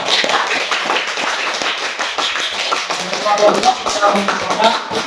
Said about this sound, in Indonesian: Beri tepuk tangan dulu untuk semua.